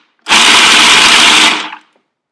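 An electric blender chops almonds for pesto in one loud, close burst of about a second and a quarter, whirring steadily before winding down to silence.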